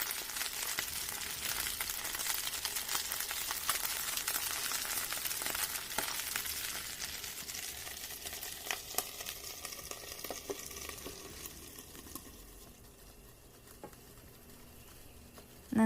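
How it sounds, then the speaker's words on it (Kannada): Chopped tomatoes and browned onions fry in a pan for a Malnad-style chicken biryani, a soft steady sizzle and patter close by that gradually quietens toward the end, with no talk. "ನಂತರ ಟೊಮೆಟೊವನ್ನು ಸೇರಿಸಿಕೊಳ್ಳಿ, ಚೆನ್ನಾಗಿ ಫ್ರೈ ಮಾಡಬೇಕು"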